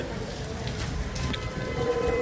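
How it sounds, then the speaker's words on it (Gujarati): Rain falls steadily at a temple fair in Wankaner, Gujarat, making a constant close hiss with a low background rumble and no clear talk. "જો મિત્રો વરસાદ ચાલુ છે"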